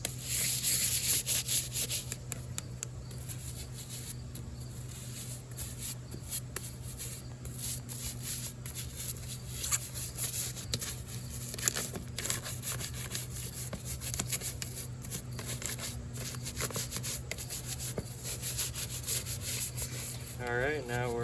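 Alpinestars Tech 10 motocross boots are scrubbed free of dirt with a brush, giving continuous faint rough rubbing and scraping strokes throughout.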